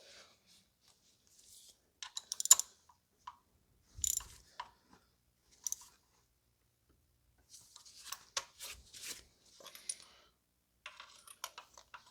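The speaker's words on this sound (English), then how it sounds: "We are going to switch to a smaller ratchet, and we're just going to tighten these spark plugs snug first" A small ratchet clicks in short, quiet bursts while snugging spark plugs on a 2016 BMW M235i, with sparse gaps of near silence between the runs of clicks.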